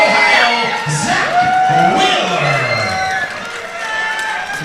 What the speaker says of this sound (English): Some Zach Wheeler fans in the crowd there.